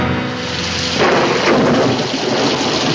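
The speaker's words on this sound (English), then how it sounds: "We can't go much further in this rain." Heavy rain pours steadily and loud with a deep rolling rumble of thunder building partway through, a dense continuous wash of storm noise with no voices.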